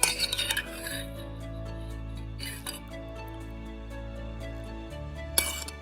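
Pre-cooked shrimp are rolled around in a hot pan, with faint metallic scrapes and clinks of a utensil against the pan over a low steady hum, with a sharper clink near the end.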